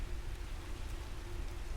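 Steady rain falls in a soft, even hiss with low rumbling undertones, continuous and fairly faint, in a quiet room by a settled fire.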